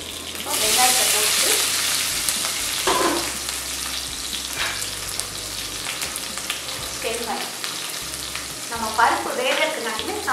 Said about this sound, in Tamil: இப்போ நம்ம சாம்பாருக்கு தாளிக்க போகிறோம்.